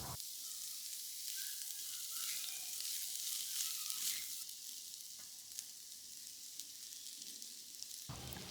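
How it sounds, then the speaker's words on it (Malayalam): Chicken and rice stir-fry in a hot pan for restaurant-style chicken fried rice, a steady bright sizzle with occasional scraping stirs, close but fairly soft, ending abruptly. "ചിക്കൻ ഒന്ന് ഇളക്കി മിക്സ് ചെയ്തതിന് ശേഷം റൈസ് കുറേശ്ശെയായിട്ട് ചട്ടിയിലേക്ക് ഇട്ട് കൊടുക്കാം"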